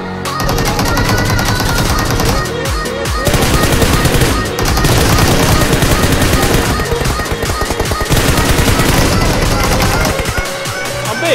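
Rapid bursts of video game gunfire crackle densely and loudly almost without pause, with a faint voice underneath.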